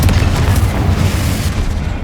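Bombarda and Confringo spell blasts in the game Hogwarts Legacy, a sustained deep booming rumble with heavy low-end thuds pulsing throughout, loud and dense with no pause.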